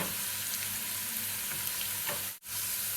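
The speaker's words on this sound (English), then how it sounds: "So put all the garlic in the pan. You got to keep stirring, okay?" Chopped garlic frying in hot oil in a pan for spicy garlic chicken, giving a loud, steady, close sizzle with faint stirring scrapes throughout and a brief drop near the end.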